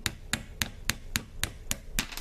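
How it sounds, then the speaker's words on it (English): A hammer bangs steadily on an AR rifle's trigger group to knock out the trigger hammer spring, with eight or so evenly spaced, sharp metallic taps close by and no talk. "it looks like it's not going to come all the way out without banging on it"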